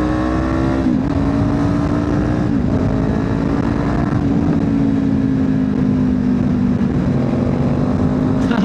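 A Kawasaki Ninja 500 motorcycle engine revs loud and close, its pitch blipping and dropping briefly during rev-matched downshifts before settling into a sustained, strong drone, with no talking.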